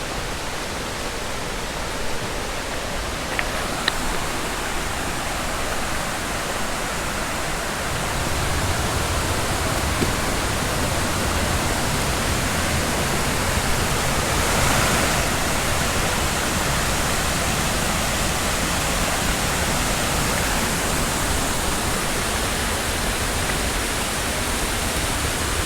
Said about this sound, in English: Actually quite a dry day today, and still a lot of water coming down here.